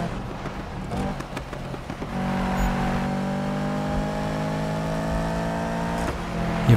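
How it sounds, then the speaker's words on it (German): A car in the racing game Need for Speed held at full throttle, its engine droning in a steady high whine that rises slightly, loud and close, preceded by brief clattering and shifting. "Hier fahre ich jetzt mal Vollgas durch."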